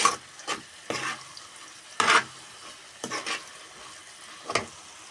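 Ginger garlic paste sizzling in a pan in a home kitchen, with several bursts of loud stirring and scraping over a soft, steady fry, spaced about a second apart.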